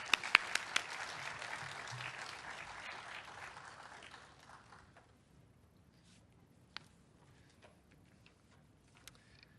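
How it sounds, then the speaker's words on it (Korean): A church congregation at a Korean Sunday service applauds to welcome the pastor, steady dense clapping for about four seconds that fades away, leaving a hushed room with a few faint knocks. "우리 목사님 나오시면 크게 환영 박수 한번 하겠습니다."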